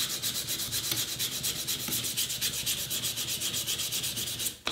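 Rhythmic sandpaper rubbing on a wooden knife handle, quick regular back-and-forth strokes, close and steady, ending with a brief clunk.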